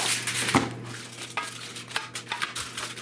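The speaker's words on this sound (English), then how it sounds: "I wrap the pan in aluminum foil." Crinkling and rustling of aluminum foil being wrapped around a metal toaster oven pan, with a few light clanks of the pan, close and fairly loud over a steady low hum.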